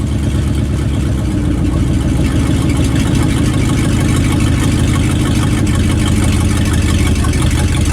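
1967 Dodge Dart V8 engine running at a steady idle after carburetor trouble, a loud, continuous low rumble with an even pulsing beat and no talk over it.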